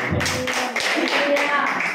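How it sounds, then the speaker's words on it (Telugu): A congregation claps their hands during an all-night prayer meeting. The applause comes in a short, close burst with uneven taps, and a voice runs underneath it. "అర్థమైతే చప్పట్లు కూడా యేసయ్యనామని"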